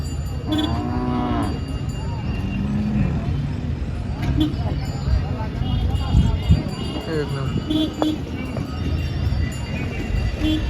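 Bulls low repeatedly amid a busy outdoor crowd at the Chopda cattle market, a deep moo rising above steady chatter and general market noise.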